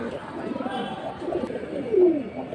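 Silver high-flying pigeons cooing, soft low throaty coos repeating close by under a background murmur, with one stronger rolling coo near the end.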